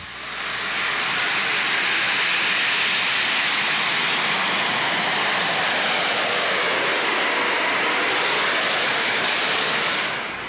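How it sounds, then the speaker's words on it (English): Two T-53 Lycoming helicopter turbine engines power a pulling tractor, giving a loud, continuous jet-like roar and whine that holds steady for about ten seconds with a slight shifting swell near the end. "That's the sound of 2 T-53 Lycoming helicopter engines."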